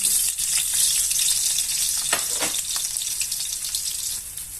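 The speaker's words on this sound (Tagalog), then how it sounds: "with the same pan, magigisa naman po tayo ng bawang, sibuyas." Garlic and onion sautéing in a pan, a loud hissing sizzle throughout with brief spatters and stirring clatters in the middle, fading slightly at the close.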